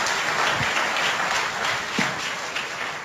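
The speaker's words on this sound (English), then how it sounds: "So a big round of applause to him as well, please." An awards ceremony audience applauds in a steady, dense patter of many hands that holds at a moderate level for a few seconds and tapers slightly at the end.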